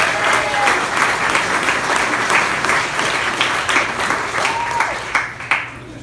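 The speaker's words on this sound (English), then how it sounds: "If we can give them a round of applause." A crowd at a mayoral campaign event gives the campaign team a loud, sustained round of applause, dense clapping that fills the room with scattered cheers.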